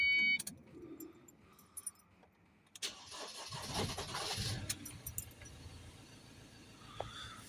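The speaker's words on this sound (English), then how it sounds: "Now we're going to start the van up." Keys jangle in a Ford Transit MK7 2.2 diesel van, with a blocked vaporizer and DPF cleaning under way. The engine then cranks and catches around three seconds in and settles into a close, rough, steady idle.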